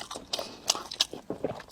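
Close chewing and biting of gluten stuffed with meat: several moist, squishy bites and crunches arrive in an uneven rhythm over a short stretch.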